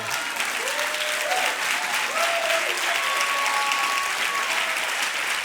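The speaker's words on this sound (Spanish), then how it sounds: "Un aplauso a Jesús." A large church congregation applauds steadily and loudly, with scattered cheers and a few voices calling out over the clapping.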